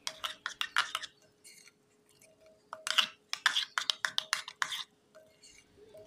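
A spoon clinking against a bowl while sugar is stirred into water for mango kasundi, a quick run of sharp metallic taps, a pause, then another brisk flurry of clinks, close and clear with no talking.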